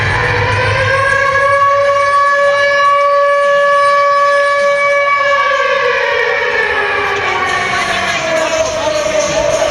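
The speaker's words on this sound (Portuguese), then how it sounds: "escutamos uma grande sirene." A loud, sustained alarm siren wails in a horror story setting as scientists drag someone back to a lab, its tones rising and falling steadily for the whole stretch over a dense background of crowd-like noise.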